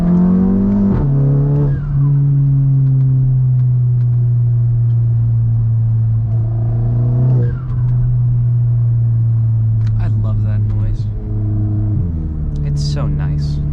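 Loud, raspy straight-piped exhaust of a Volkswagen Mk7 GTI droning at a steady low pitch, with sharp revs rising and falling several times; close by and constant.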